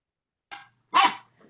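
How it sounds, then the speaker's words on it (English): An excited puppy barks twice in the background of an online call, two short, moderately close yaps followed by a faint trailing yip, with no talk over it. "there's a very excited puppy in the background"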